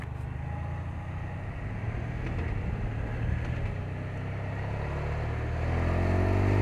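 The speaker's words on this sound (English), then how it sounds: "So this is riding now at about 70 kilometers an hour with the visor, with my helmet visor opened up full." Motorcycle ridden at about 70 km/h with the helmet visor fully open, giving a steady loud roar of wind and engine that swells slightly toward the end, heard from the rider's position with no voices.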